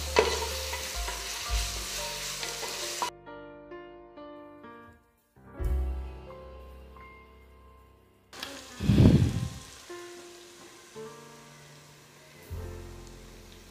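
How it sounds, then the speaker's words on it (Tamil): Ginger and garlic sauté in a pan for white chicken biryani, giving a steady sizzle with stirring scrapes and a hum of tonal sounds, fairly close and alone. "இது எல்லாத்தையுமே நல்லா பச்சை வாசனை போகிற வரைக்கும் நல்லா வதக்கிக்கணுங்க."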